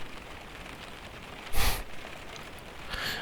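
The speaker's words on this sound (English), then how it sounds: "as you can hear, it is raining." Steady rain falls outside in a soft, continuous wash of noise, with a louder burst of patter or splashing around the middle and a smaller swell near the end.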